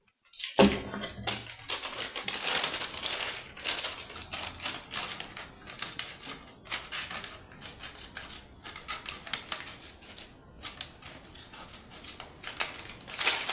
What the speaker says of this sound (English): this is the side I folded, so I'm going to cut it